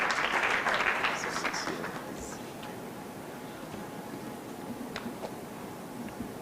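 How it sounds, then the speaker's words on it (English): Conference audience applauds briefly, louder clapping in the first couple of seconds that thins into scattered claps over low room murmur and a few voices. "A round of applause for Mr."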